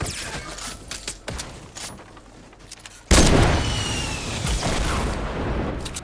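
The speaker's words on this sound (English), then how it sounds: "She can spam me with the RPG." Video game battle with RPG explosions and gunfire: quieter scattered shots for three seconds, then a sudden loud blast followed by a sustained roar of continuous fire and rumble.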